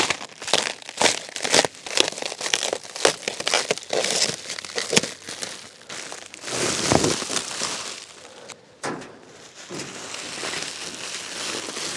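Packaging being unwrapped from a heavy 450-pound box: sustained crinkling, tearing and rustling of wrap, close and fairly loud, in dense irregular bursts with brief pauses.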